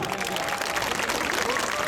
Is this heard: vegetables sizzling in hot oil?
no